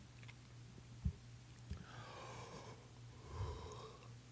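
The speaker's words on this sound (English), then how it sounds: "I don't know why I'm yawning." A person yawns, a drawn-out breathy exhale with a faint vocal tone, close and quiet, preceded by a few soft breath clicks and a low steady hum.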